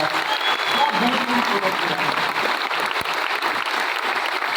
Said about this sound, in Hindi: तो ऐसे हमारे ग्रेट साइंटिस्ट जिन्होंने ये प्रोडक्ट डेवलप किया, उनके लिए जोरदार ताली होनी चाहिए।